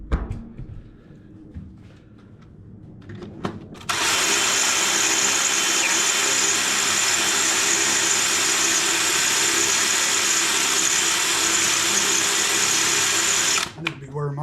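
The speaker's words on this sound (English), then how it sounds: "when you're drilling through here and that thing breaks through, you do not want to drill up into that fuel tank" Drill bit boring through the steel deck of a Toro 22-inch Personal Pace self-propelled push mower, a loud steady whine that starts abruptly and runs about ten seconds before cutting off, with brief talk and clatter before it.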